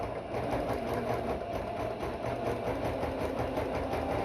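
A sewing machine runs steadily, stitching ribbon onto fabric for a ribbon skirt, its fast mechanical whir continuing without a break at a moderate, close level.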